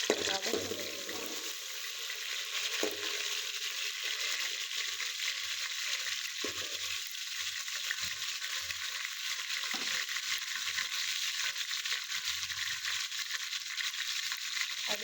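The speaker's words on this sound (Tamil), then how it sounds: "இஞ்சி பூண்டு பேஸ்ட் ஆட் பண்ணிட்டு நல்லா வதக்கிக்கலாம்" Ginger garlic paste sautéing in a pan for a prawn curry, a steady broadband sizzle running continuously throughout, close and fairly loud, with faint scraping now and then.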